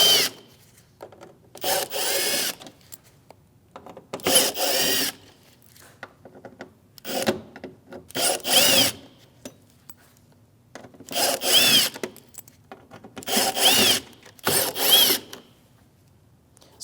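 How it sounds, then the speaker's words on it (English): A power driver with a T15 Torx bit backs screws out of a side bumper bracket on a 2016-2025 Chevrolet Malibu, about seven loud, close whirring bursts separated by brief quiet gaps. "we're going to take these top screws off going across, and this is a T15, it's a Torx bit"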